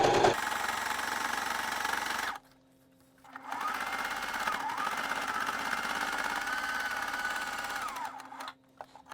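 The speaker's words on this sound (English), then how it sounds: "So I like sewing on top of it," A sewing machine stitches through a paper bag junk journal cover, a close, fast mechanical whirr running in two long bursts separated by a short pause, alone with no talk.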